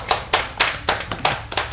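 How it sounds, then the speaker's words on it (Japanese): Hand claps ring out in a small group at a casual Japanese-language radio recording, about seven distinct claps spaced unevenly over a couple of seconds, fairly close and loud with no voices over them. "拍手"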